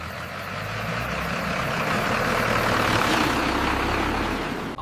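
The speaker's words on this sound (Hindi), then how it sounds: "एक आयरन ओर से भरा हुआ ट्रक धीरे धीरे चढ़ने लगता है।" A truck loaded with iron ore climbing slowly up a foggy valley road through a forest: a continuous heavy engine drone, broad and steady, rising slightly in the middle, with no talk.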